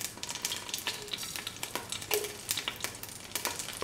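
Dried red chilies crackle in about 10 ml of hot oil in a pan, a close, lively patter of small pops and sizzling spits over a low steady hiss.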